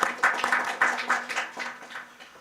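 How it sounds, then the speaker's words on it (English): A seated audience at a regional World Health Summit session applauds Dr. M.K. Agarwal, immunization director at WJCF, with a steady, moderately loud patter of many hands, a faint hum underneath. "Can we have a huge round of applause for sir?"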